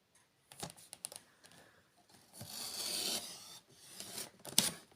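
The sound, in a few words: paper trimmer (massicot) cutting card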